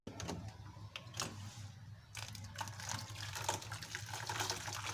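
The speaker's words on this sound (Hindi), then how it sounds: "अब इस पे डालेंगे थोड़ा सा पानी," Water is poured into mashed falsa berries for fresh juice, a steady close trickle and splash with brief interruptions and small clinks of handling.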